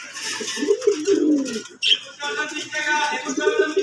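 Fancy pigeons in a collection coo in low, rolling phrases, repeated steadily and close by, with a brief higher chirp partway through.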